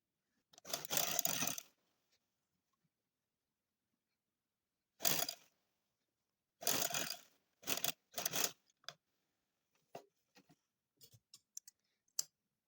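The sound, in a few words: sewing machine stitching a tulip shalwar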